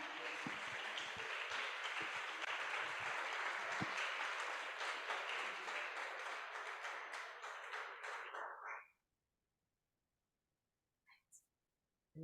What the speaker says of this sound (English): I hope you could hear that round of applause